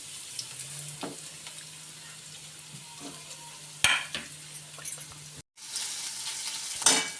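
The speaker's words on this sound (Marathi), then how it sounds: "मी पहिला कांदा टाकते बघा, व्यवस्थित भाजून घ्यायचं आहे" Onion fries in a pan as a close, moderate sizzle with occasional stirring scrapes and clanks. A low hum runs under the first half, the sound drops out briefly, and then a brighter sizzle resumes.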